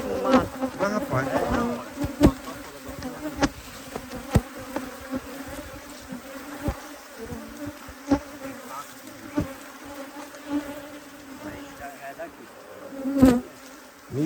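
Honey bees swarm and buzz around beehives in an apiary at the end of summer. The buzzing is steady and dense, with individual bees droning loudly as they pass close.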